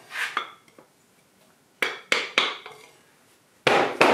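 Crankshaft bearing caps on a John Deere 755 engine being tapped into place: scattered sharp metallic knocks, single and in quick pairs, close and clear, with quiet pauses between them.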